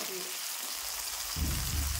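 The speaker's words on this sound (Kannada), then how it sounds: "ಟೊಮೆಟೊ ಒಂದು ಎಣ್ಣೆ ಒಳಗೆ ಒಂದು ಸ್ವಲ್ಪ ಫ್ರೈ ಆಗುತ್ತೆ" Tomatoes frying in oil for aloo sagu, a steady hiss of sizzling close by, with brief low clatters from a pan near the end.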